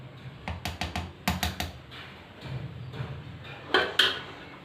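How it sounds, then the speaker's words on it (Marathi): A spoon adds a tablespoon of cornflour to homemade cake premix, making light clinks and taps against the bowl in quick clusters, with a couple of sharper knocks near the end in a quiet room. "1 टेबलस्पून मी इथे कॉर्नफ्लॉवर घालत आहे।"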